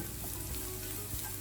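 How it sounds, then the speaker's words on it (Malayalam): Grated coconut frying in hot ghee in a pan, a steady dense sizzle with soft crackling throughout, close and even, no voices. "അതിലേക്ക് തേങ്ങ ചിരകിയതിട്ടിട്ട് ഒരു ഗോൾഡൻ കളർ ആകുന്നത് വരെ വറുത്തെടുക്കാം."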